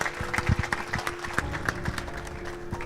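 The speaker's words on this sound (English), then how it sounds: "Give him a round of applause, please." Audience applause for a speaker being introduced: scattered, moderately quiet clapping from a room of people, uneven and thin, with a faint steady hum underneath.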